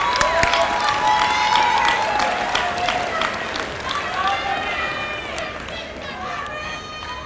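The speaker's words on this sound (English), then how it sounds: "Let's give Principal Madry a big round of applause" A commencement audience applauds and cheers for a school principal, a steady roar of claps mixed with whoops and raised voices that fades slightly toward the end.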